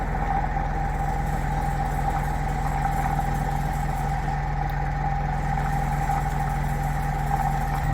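A magnetic switching motor runs at full power near 1250 RPM, giving a steady, continuous hum with a strong mid tone and low drone, unbroken and alone throughout.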